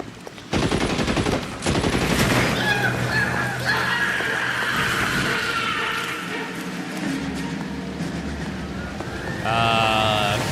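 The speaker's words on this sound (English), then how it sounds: "Tommy guns are very inaccurate, but they're good at firing lots of bullets." A Tommy gun fires long rapid bursts in the L.A. Noire video game, loud and close, with game music and effects behind it and a brief pause before a final burst.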